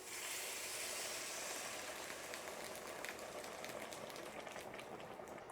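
Beef broth from bouillon mix pours into a pot of Finnish meat stew, giving a steady, continuous hissing splash that runs without pause and softens slightly toward the end, with no talking.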